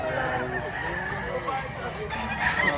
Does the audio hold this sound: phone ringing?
no